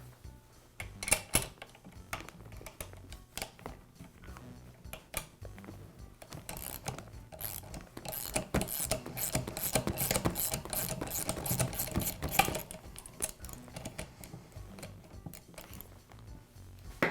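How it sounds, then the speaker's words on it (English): Clicking, ratcheting tool work as a bolt is removed from the handle fork of a Royal vacuum, where it attaches to the motor: close, irregular metallic clicks and taps that grow busier and denser midway, with no talking. "Now remove the bolt that secures the handle fork to the motor."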